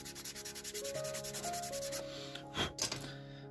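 Very fine sandpaper rubs back and forth on a small model part in quick, even strokes, close and fairly soft, ending in a few slower scrapes.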